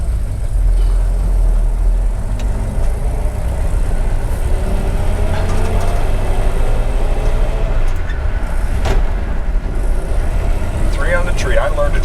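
An old 1951 Ford F-1 pickup truck drives along with a steady, loud engine rumble and road noise that continue throughout, with some faint overlapping sounds mixed in.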